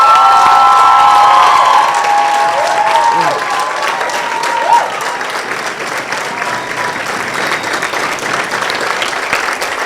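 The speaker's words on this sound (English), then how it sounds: "a huge round of applause for this woman" A large audience gives a standing ovation at a live talk event, loud sustained applause with cheering and shouts rising over it, slowly easing but continuing to the end.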